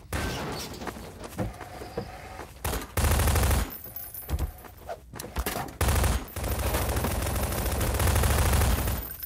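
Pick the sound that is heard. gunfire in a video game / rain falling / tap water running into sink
gunfire in a video game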